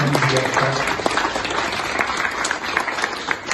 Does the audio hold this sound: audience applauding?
yes